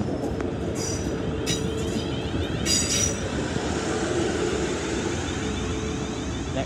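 A Class 450 electric train, unit 450.086, arrives at St Denys station on the Portsmouth and Southsea service, with a loud, continuous rail rumble and intermittent high wheel squeals near the platform.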